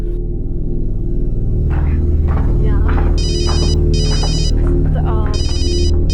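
A phone ringtone chimes in repeated bursts over a steady low hum, with a voice speaking in the background.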